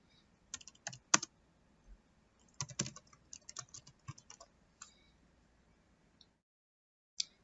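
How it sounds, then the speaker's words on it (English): Text is typed on a computer keyboard in short bursts of quick, light key clicks separated by pauses, close and quiet, with no talk. "Type in your desired text and choose your desired font."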